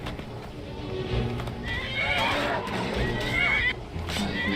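Horse in a fantasy video game battle whinnying loudly with clattering hooves, a close, strong neigh in the middle of the clip over game effects.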